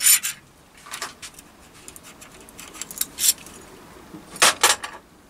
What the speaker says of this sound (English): And I can even use the slide hammer to knock it home.